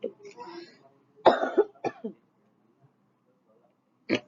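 Coughing from a person during a maths lesson, a few close, sharp coughs and a throat clear in quick succession, then a pause and one more cough, in an otherwise quiet room.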